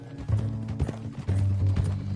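Horse hooves clip-clopping at a steady trot in Red Dead Redemption 2, close and fairly loud, with a rhythmic pattern of heavy thuds and no talk over them.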